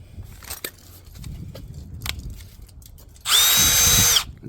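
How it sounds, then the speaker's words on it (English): Cordless drill boring out plastic rivets holding a Jeep Gladiator rear fender liner: one loud, steady whirring burst of about a second near the end, after quiet handling noise, with no talking. "these little plastic rivet things, I just drilled those out"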